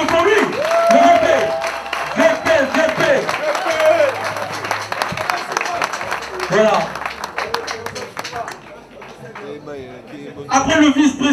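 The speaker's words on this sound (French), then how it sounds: "On peut applaudir pour lui." An audience at a fan club gathering in Pointe-Noire claps for the club's newly introduced vice-president, a scattered round of applause mixed with chatter and someone speaking over it.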